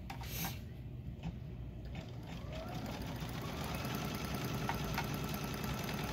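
An embroidery machine stitching a seam line in navy blue thread runs with a steady, rapid mechanical whirr and needle chatter, constant and close throughout.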